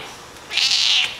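A single clear cat meow, rising and held for about half a second, close and fairly loud against a quiet background.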